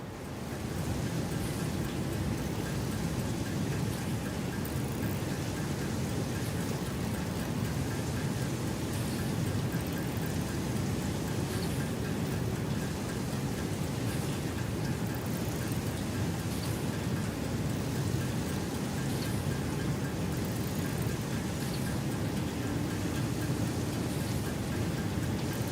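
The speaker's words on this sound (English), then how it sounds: "Raining hard right now," Heavy rain pours steadily throughout a video game scene, a dense, even hiss that stays at a moderate level for the whole stretch with no clear speech.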